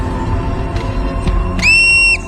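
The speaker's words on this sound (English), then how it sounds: "This piercing whistle sends an urgent message to the colony." An alpine marmot's alarm whistle warning its colony of a hunting eagle: a single piercing, high, steady call lasting about half a second, rising clearly out of faint outdoor background noise.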